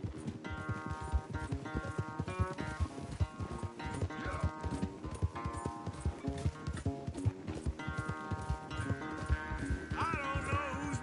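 Horse hooves clip-clop at a steady running rhythm in the Red Dead Redemption video game, continuous under a background music score with sustained tones.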